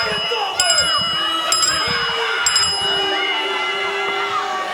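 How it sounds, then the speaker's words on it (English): A wrestling ring bell rings out in three sharp, bright clangs spaced about a second apart, over a loud crowd roar and excited commentary at a Continental Championship Wrestling event. "Ring the bell."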